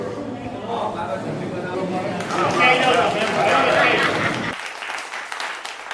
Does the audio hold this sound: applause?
yes